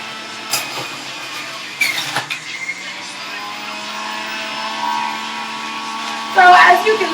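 An electric juicer runs steadily with a loud motor whine while green vegetables are fed through it, with brief knocks and rattles and louder grinding near the end.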